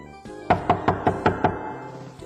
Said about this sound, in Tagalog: Kumatok nga tayo.